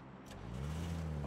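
A car engine in the battle royale game PUBG, a low steady hum that starts up and settles into a constant drone, moderately quiet.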